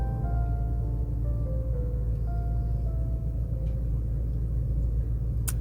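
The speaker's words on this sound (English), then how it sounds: "So the truck's going to warm up, and we're going to head on into town." A truck engine idles steadily as it warms up on a cold winter day, a continuous low rumble with a faint whine, heard close and alone with no talking.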